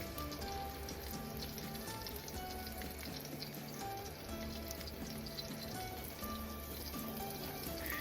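Flour-dusted chicken fillets sear in hot oil over high heat for chicken piccata, giving a steady, close, continuous sizzle and crackle with no talking.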